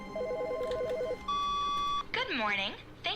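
Electronic phone ringing in The Stanley Parable, a warbling trill and then a steady tone, with speech breaking in over and around it.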